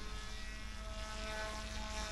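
RC model helicopter in flight, a steady droning whir with constant tonal hum lines from the rotor and motor, continuous and fairly even throughout with no talking.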